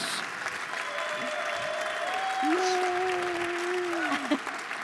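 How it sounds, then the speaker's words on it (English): Steady applause from an audience fills the room, a dense continuous clatter of clapping that swells slightly toward the end. "Let's give them both a round of applause"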